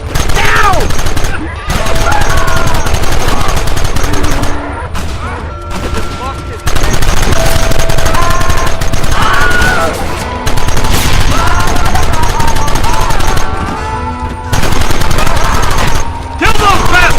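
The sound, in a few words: gunfire in Red Dead Redemption video game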